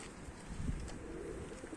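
A blue baska pigeon gives a soft, low coo near a loft, brief and fairly quiet against faint background noise.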